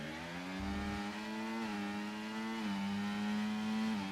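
F1 race car engines in the F1 24 video game, a steady high-pitched whine that rises and dips slightly as the cars run nose to tail in a slipstream, with no voices.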